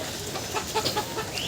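Chickens cluck in short, scattered calls on a modern farm, moderately close, against a steady background hiss without talk.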